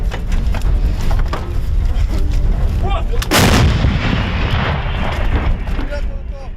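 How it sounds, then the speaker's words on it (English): A rapid series of booming explosions and crackling blasts as cluster bomb submunitions hit a field near Andriivka, south of Bakhmut, Ukraine, with one especially heavy burst midway; faint voices can be heard among the detonations. "footage shows a series of explosions after submunitions from cluster bombs hit the field"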